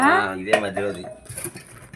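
Metal cooking pots clank and ring briefly while a person talks over them, followed by quieter scraping and handling sounds.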